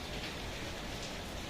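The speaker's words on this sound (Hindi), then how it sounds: "बाहर बहुत तेज बारिश भी हो रही है" Heavy rain pours steadily outside, a dense, constant hiss and patter with no breaks, heard as a loud, unbroken wash of noise.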